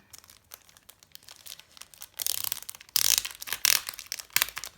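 Plastic packaging on a K-pop album crinkles and crackles in irregular bursts as it is pulled open, close to the listener and growing louder and busier toward the end.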